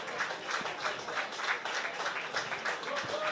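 Spectators at a Tipperary camogie match clap steadily as a player is substituted off, a continuous crowd applause heard at moderate distance with a commentator speaking over it.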